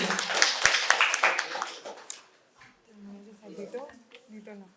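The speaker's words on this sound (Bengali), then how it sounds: "ওর জন্য একটা জোরে হাততালি" Audience at a medical college quiz competition clapping for a winner, a burst of scattered applause that fades after about two seconds, followed by someone speaking.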